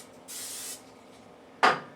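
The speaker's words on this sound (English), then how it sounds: "I like to spray it with my cooking spray." A short hiss from a can of cooking spray into a preheating pot, then a brief pause and one sharp knock or clatter nearby.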